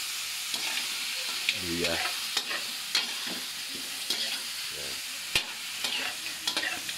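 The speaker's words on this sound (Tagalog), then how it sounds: "Igisa natin sa siling labuyo, bawang," Chicken sautéing in a pan with bird's eye chili, garlic and ginger for a triple-spicy adobo: a steady close sizzle broken by scraping stirs and clanks, with a brief spoken word near the start.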